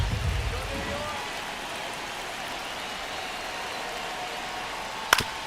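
Rain falling on a baseball stadium in the MLB The Show 25 video game, New York Mets vs Philadelphia Phillies: a steady, soft hiss of rainfall throughout, with a low rumble at the start and a brief sharp crack near the end.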